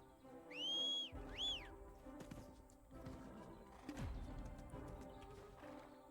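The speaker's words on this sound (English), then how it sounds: "Horse." Horse hooves clop in the online game Black Desert, after two rising whistle-like tones at the start, followed by scattered, irregular hoof thuds at moderate volume.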